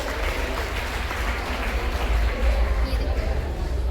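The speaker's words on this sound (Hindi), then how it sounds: "जोरदार तालियों से इनका स्वागत किया जाए" At a school award ceremony, an assembled crowd applauds a student with a dense, continuous clatter of clapping over a low background rumble and murmuring voices.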